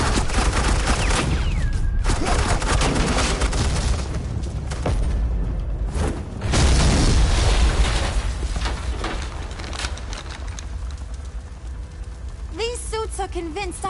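Suppressing fire in Batman: The Enemy Within from Agent Quinn's side: a loud, dense barrage of gunshots and booms with heavy bursts, while voices talk over the shooting.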